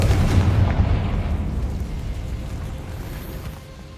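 A Confringo fire spell in a Harry Potter video game goes off as a loud, close, rumbling blast that decays slowly over several seconds.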